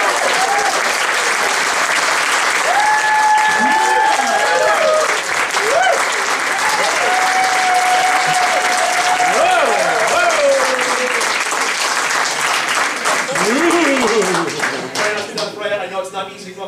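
Sustained audience applause for a volunteer at a live magic show, a dense, loud wash of clapping from a crowd, with a voice speaking over it before it tapers off at the end.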